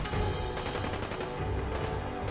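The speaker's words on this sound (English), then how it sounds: "there is rapid gunfire going on out here in the streets" Rapid gunfire crackles through the streets of Diamond City in Fallout 4, a steady dense barrage of shots at a distance, continuous and fairly loud throughout with no talking.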